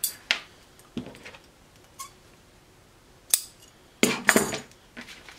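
Scissors snip fabric for a bodysuit in a quiet room, several sharp separate cuts, then a quick cluster of closely spaced snips near the end, with no talk.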